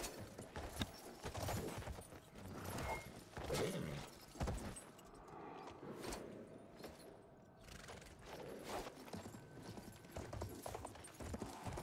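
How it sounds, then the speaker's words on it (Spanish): Horse hooves clip-clopping steadily in the World War I shooter game Battlefield 1, with dense, busy movement and rattling gear throughout and no talk over it. "Puede nadar el caballito."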